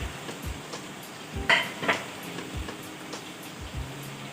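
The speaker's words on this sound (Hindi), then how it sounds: "अब हम इसमें शामिल करेंगे ये जो हमने टमाटर कट करके रखे थे, ये इसमें शामिल कर देंगे।" Tomatoes are stirred into chicken in a kadhai, with a steady sizzle under regular scraping and clattering of the utensil against the pan, and a couple of sharper clanks midway.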